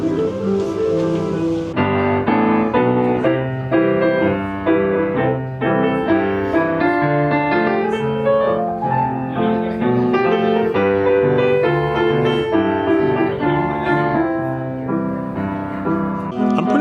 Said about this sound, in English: I hear the piano a-tinkling.